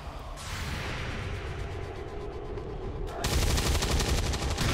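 Gunshots in the video game XCOM 2, a steady stream of rapid automatic fire that swells into a louder, harsher burst toward the end, with no talking.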